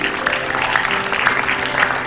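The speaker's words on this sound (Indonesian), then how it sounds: "oh tepuk tangan dulu dong" A TV studio audience on an Indonesian comedy talk show claps briefly, a lively burst of applause mixed with murmurs and voices in the room.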